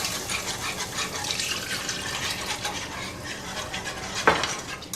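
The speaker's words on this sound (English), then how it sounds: "I'm going to whisk it in and get rid of all the lumps that might form" A whisk stirs liquid into a creamy New England clam chowder thickened with flour, giving a steady, close scraping and sloshing against the pot that runs without pause, with one brief clink near the end.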